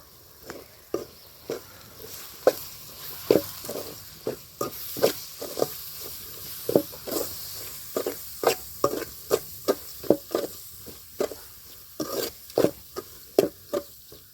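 Repeated scraping taps of a spoon stirring thick ground coconut paste in a frying pan, a steady irregular rhythm over a soft sizzle, close and fairly loud.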